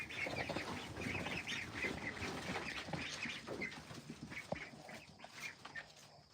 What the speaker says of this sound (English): They're a very cool duck.